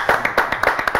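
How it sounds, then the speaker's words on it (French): A studio audience on a French talk show claps for a guest, with regular sharp hand claps repeating at a steady, fairly close pace through the short burst. "Applaudissements pour Hans Hall."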